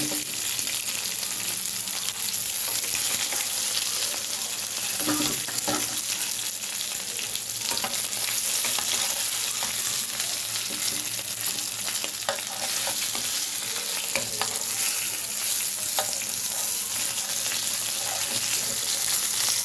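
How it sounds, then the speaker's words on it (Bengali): Fish frying in a pan, a steady loud sizzle running throughout with occasional soft scrapes and clinks of stirring, close and continuous with no talking. "দেখো মাছ ভাজি হয়ে যাচ্ছে"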